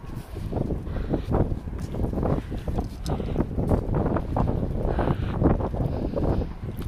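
A strong headwind buffets the microphone outdoors, producing a loud, rumbling low roar that surges and gusts unevenly throughout, with no speech.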